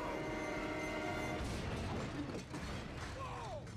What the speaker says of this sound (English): And completely derails a freight train.